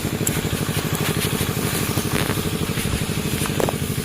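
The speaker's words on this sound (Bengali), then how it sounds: "আর এই যে দেখেন স্যালো মেশিন" A shallow irrigation pump engine runs steadily in a village setting, with a rapid, even chugging thump and mechanical rattle, loud and close for the whole stretch.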